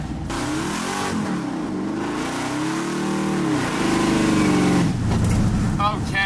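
A supercharged, slammed 1965 Mustang accelerates hard with a loud rising engine howl, a brief dip at a shift, then revs again with tire chirps near the end; a voice talks over it.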